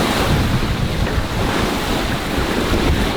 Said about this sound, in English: the wind has picked up even more. It's blowing 15 knots.